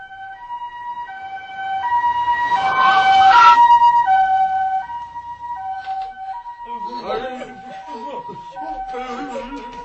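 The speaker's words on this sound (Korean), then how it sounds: "구급차가 도착했고 구급대는 곧 들것에 아저씨를 실어 나갔다." An ambulance siren wails in alternating tones, swelling louder as it approaches and then fading, with voices talking faintly in the latter part.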